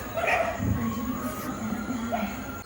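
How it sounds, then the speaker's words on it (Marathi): Dogs bark and yip outdoors in a village at night, a few short barks rising over a steady background hum, with some whimpering tones mixed in. "कुत्र्यांना काय झालंय काय माहिती खूपच भुकतात"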